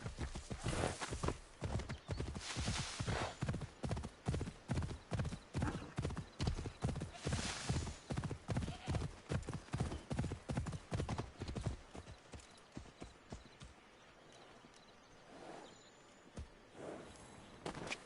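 A horse in the Assassin's Creed video game gallops with rapid, rhythmic hoofbeats that are close and loud for about twelve seconds, then slows and fades to quieter ambience with a faint whinny.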